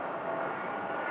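Steady, broadband jet aircraft engine roar from an airplane turning and moving forward on the ground at Sky Harbor airport, continuous and moderately distant with no breaks.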